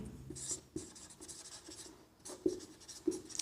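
Marker or chalk strokes on a classroom board during a lecture, a few brief scratchy taps and squeaks spaced out over a quiet room.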